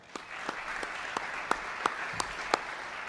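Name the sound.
applause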